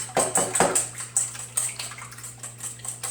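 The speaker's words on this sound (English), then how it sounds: "So a little bit of salt, a little bit of pepper, and just a really gentle whisk." Eggs whisked gently in a bowl with salt and pepper, giving soft repeated wet clinks and swishes in a steady rhythm, close and fairly loud, with no talking.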